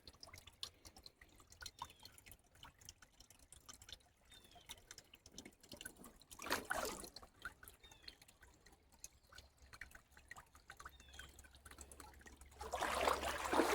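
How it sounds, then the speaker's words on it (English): A small spring trickling down into Pine Creek near Prattville, Alabama, a steady faint dribble and patter of water with scattered drips, swelling briefly louder midway and again toward the end, with no talking. "that's the spring coming down into the creek right there"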